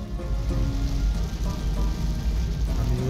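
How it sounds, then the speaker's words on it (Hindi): Heavy morning rain pours onto a car during a drive, a dense steady hiss and patter of drops on the roof and glass with a low road rumble underneath. "लेकिन सुबह सुबह बारिश हो रही है बहुत ज्यादा"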